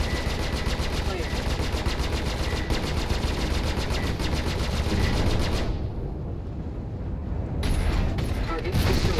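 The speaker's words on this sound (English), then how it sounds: "Target destroyed. And that is why we like the cannon." A spaceship cannon in the Star Citizen video game fires in rapid, rhythmic bursts of loud, close shots, pauses briefly, then resumes, with a voice speaking over the gunfire.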